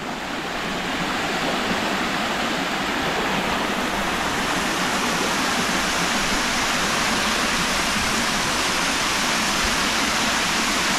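Floodwater rushing through a dam spillway, a loud, continuous broadband roar of churning water that holds steady throughout with no pauses.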